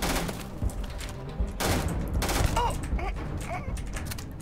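Gunfire rattles in the space shooter game Starfield as repeated shots blend into a busy, dense mix of booms and mechanical effects, with in-game voices under the shooting.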